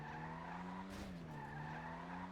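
Tires skid and squeal from a car in a racing video game, a loud steady screech with a sharp burst near the middle, with no talk over it.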